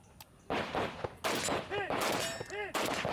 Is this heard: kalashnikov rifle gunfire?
yes